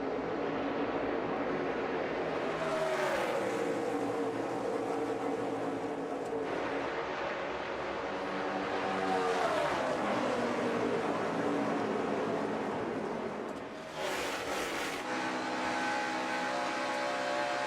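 NASCAR race cars roar off the start of the 2017 Coca-Cola 600, a loud, dense engine drone with pitch swelling and falling as the pack passes, continuous for the whole stretch.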